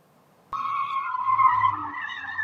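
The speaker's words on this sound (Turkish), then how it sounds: "Boş buldukları alanda dakikalarca drift yaptılar." A car drifting in an empty open area lets out a sudden loud tire squeal that starts abruptly after a brief quiet moment and holds as a sustained, wavering screech with engine noise beneath.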